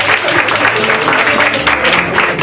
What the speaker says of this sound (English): So please give all of yourselves a round of applause.